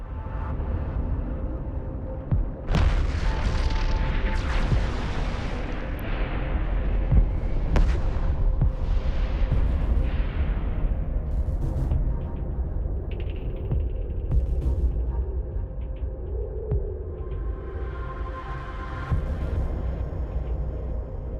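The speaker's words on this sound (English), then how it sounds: "Now I will say the explosions in the game look really cool." Heavy booming blasts and rumbling bursts from combat in Eve Online, loud and continuous, with sharp cracks layered over a dense low roar.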